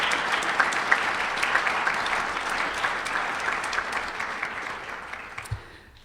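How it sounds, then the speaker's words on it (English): Audience applause at a university college event honoring Benjamin Franklin, a steady, dense clapping from a large crowd that holds for about six seconds before gradually thinning out. "Would you please join me in giving them a round of applause?"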